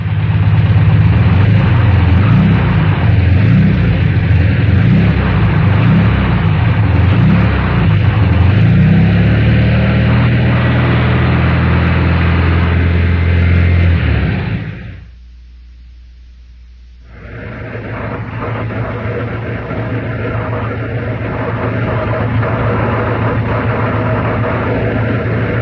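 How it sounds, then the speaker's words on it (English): A Volkswagen engine runs steadily at idle, first normally and then with a worn generator bearing, a continuous loud mechanical drone interrupted by a brief near-silent gap in the middle before resuming alone. "here's a normal engine, then the sound of a car running with a worn generator bearing"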